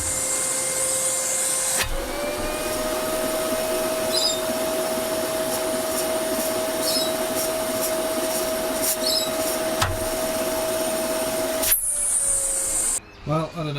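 A Makita 40-volt cordless dust extractor vacuum pulls suction with a steady close whooshing roar and a constant tone that holds for about ten seconds, with a few scraping touches along the way, before the motor winds down and cuts off.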